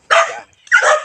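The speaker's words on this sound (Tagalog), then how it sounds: "Ayan yung aso ko, si Justin." A pet dog named Justin gives two sharp barks about half a second apart, close and loud, with no other sound between them.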